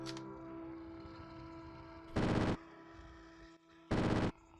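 Machine pistol gunfire in the video game Caves of Qud, two short loud bursts of rapid fire about two seconds apart over a steady background music drone.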